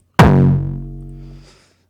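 A single hardstyle kick drum, high-passed at 175 and layered with a touch of white noise, hits hard and decays with a long pitched distorted tail over about a second and a half, heard alone.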